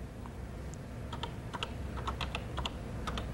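A command being typed on a Color Computer keyboard: a run of crisp, close key clicks, irregular at first and then quicker and denser, over a faint steady background hum.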